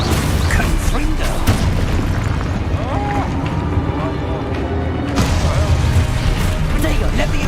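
A Confringo fire-spell explosion in the video game Hogwarts Legacy lands amid dense, loud in-game booms, bursts and rumbling combat noise, with a voice shouting spell names over it.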